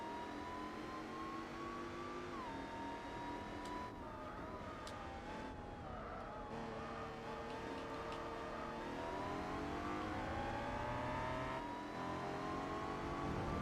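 A BMW M3 in Gran Turismo 4 revs hard, its engine whine climbing and dropping through gear changes and rising again, steady and close throughout with no talk over it.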